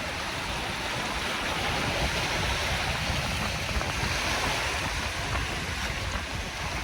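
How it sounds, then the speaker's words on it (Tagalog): Waves surge onto the dolomite beach of Manila Bay after Typhoon Kristine, a loud, continuous rushing wash of surf and water, close and unbroken, with some wind noise and no talking. "Ayan na, sumusugod na si Alon."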